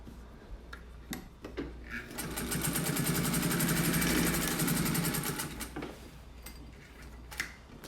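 A Singer 201 sewing machine stitches fast in a steady, even whir that builds and holds for several seconds, with short bursts and clicks before and after; no talking.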